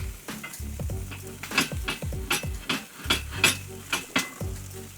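Chicken wings cook on an open fire grill with a crackling sizzle, while metal tools clink and scrape against the grate in irregular bursts close by; no one speaks.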